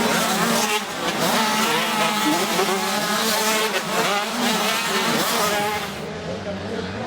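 Race cars roar past during a motor race, a loud continuous wash of engine noise and rising and falling revs from several cars, with someone talking over it.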